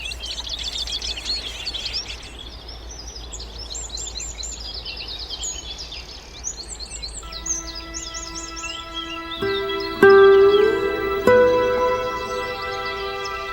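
Goldfinch song in open country, bright twittering chirps near and far over a soft background hum, joined late by louder clear whistled tones.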